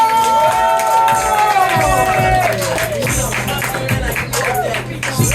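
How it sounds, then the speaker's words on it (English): Comedy club audience clapping and cheering for a comedian at a standup night, a lively crowd burst with whoops and music playing underneath, voices mixed into the noise. "I will take all those mildly claps, thank you very much."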